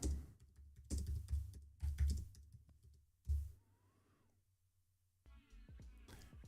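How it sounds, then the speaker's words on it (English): Rapid clicking of a computer keyboard being typed on during a live Q&A stream, heavy bursts of keystrokes at first, then a quiet stretch before a steadier background hum takes over. "Sorry, just typing something for you."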